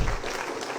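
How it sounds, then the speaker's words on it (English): Audience applause at the grand final of a school debate competition, honoring the best speaker award winner; a short, dense burst of clapping that stays fairly steady throughout, with no voices over it. "A round of applause for him."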